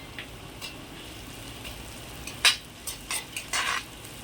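Onions with salt sautéing in an iron kadai, a soft steady sizzle with a few brief, sharper scraping stirs near the end, close up.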